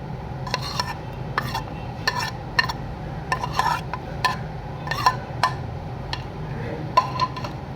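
Grated potato worked into paratha dough in a bowl, with a spoon or utensil knocking and scraping against the sides in irregular clinks, close and fairly clear, no talking.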